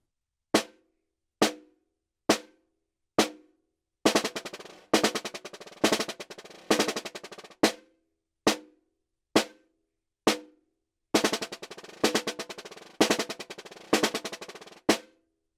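Snare drum exercise of single quarter-note strokes followed by a measure of buzz strokes, played alternating, then repeated. Crisp close hits with silence between them and no talking.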